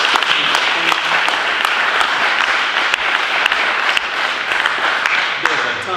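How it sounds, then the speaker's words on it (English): A dense, sustained round of applause fills a room after a talk by Don Wright of Assurex Health at a Startup Grind Cincinnati event, loud and even for the whole stretch. "give Don another round of applause"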